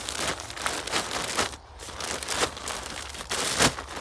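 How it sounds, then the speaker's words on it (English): A plastic bag of compost is shuffled and loosened, giving close, continuous crinkling and rustling with irregular bursts and a brief pause midway. "what I'm going to do is just shuffle this bag up"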